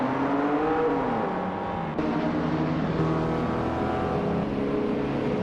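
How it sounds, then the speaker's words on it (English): Racing cars in a video game race at Brno, led by a 1987 Mitsubishi Galant R4, drone and rev loudly together at the start. Engine tones rise and shift continuously in a dense pack, with no talking. "the race just kicked off at Brno, and leading the pack is Bot Arlo Coast in a classic 1987 Mitsubishi Galant R4"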